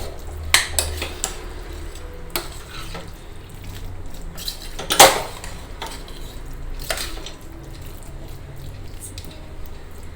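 Mushroom curry being stirred in a pan after salt goes in, with scattered scraping and clinking of a spoon against the metal at irregular intervals, one louder clatter midway, over faint background noise.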